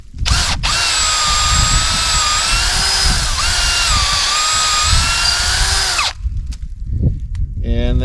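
Power drill boring a tap hole two to two and a half inches deep into a maple tree about three feet up the trunk, a loud steady whine for about six seconds that then stops, leaving outdoor noise.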